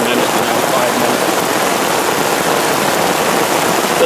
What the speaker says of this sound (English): A good 4, 5, 6 minute downpour like this is what you really need to get this bucket full.